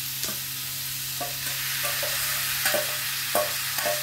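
Marinated chicken for chicken masala pulao fries in a pan, a constant sizzle punctuated by several stirring scrapes and soft clinks, close and without talk.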